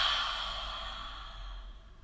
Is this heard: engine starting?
no